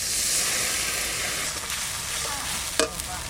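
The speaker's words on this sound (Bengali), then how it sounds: "সামান্য একটু জল দিয়ে ভালো করে কষাই নেবো মশলাটা।" Ginger, garlic, chilli, cumin and coriander spices frying and being stirred in a pan for a chicken curry with raw mango, a steady close sizzle with a brief scrape of the spoon near the end.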